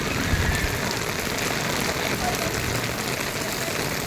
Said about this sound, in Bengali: বৃষ্টি বৃষ্টি বৃষ্টি বৃষ্টি